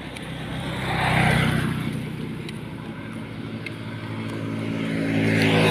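Motor vehicles passing on a road near the sea, a steady engine drone that swells around the first second, eases, then builds again toward the end, with a constant wind-like rumble underneath.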